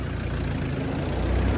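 A tractor engine idles in a cloth market street, a loud steady low rumble with even mechanical pulsing, close and continuous for the whole short stretch.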